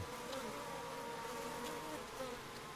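Korean native honeybees buzz at their hive as they guard against hornets, making a soft, continuous hum with faint rises and no voices.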